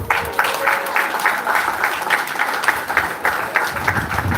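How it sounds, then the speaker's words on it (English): Parents and guardians giving a rousing round of applause at a high school leaving ceremony, a steady crowd clapping sustained for several seconds in a large hall. "give yourselves a wonderful rousing round of applause"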